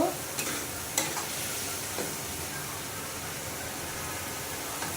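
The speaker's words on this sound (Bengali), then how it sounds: "মশলাটা ভালো করে কষে নেব" Spice paste for a bitter gourd curry stir-fries in a pan, giving a steady, soft sizzle with a few faint scraping stirs at the start.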